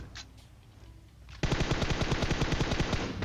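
Gunfire in the mobile battle-royale game PUBG Mobile: after a short quiet stretch, a rapid automatic burst of evenly spaced, loud shots rattles on continuously to the end.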